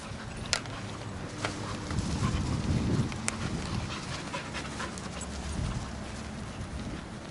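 Puppies panting steadily and close by, with soft rhythmic breathing, a few light thumps and scuffles, and a low rumble underneath, with no voices.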